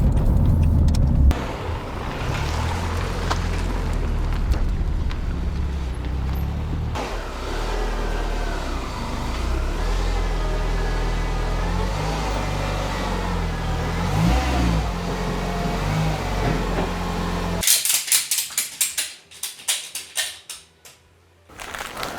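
Renault Clio 182 engine revving hard on a rolling road, a loud sustained roar rising and holding for most of the run, then cutting off abruptly into quieter, uneven mechanical noise near the end.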